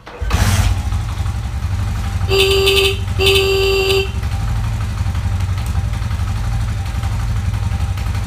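Over a steady idling Honda CD 70 motorcycle engine, its horn sounds twice, each a loud, flat beep lasting under a second, close by.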